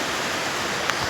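Mohini waterfall pouring steadily, a dense continuous rush of falling water close by with no pauses, loud and even throughout.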